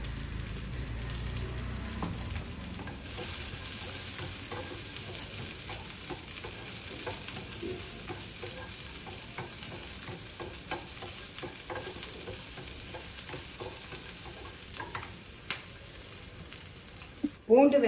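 Chopped garlic and onion frying in a pan for capsicum rice, a steady close sizzle with repeated scrapes and taps of a spoon stirring through it, and a louder clatter at the very end.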